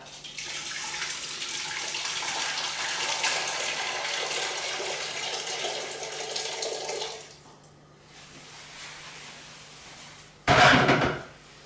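Previously boiled water pours steadily for several seconds, then tapers off, followed by a quieter pause and a brief, sharp clatter near the end.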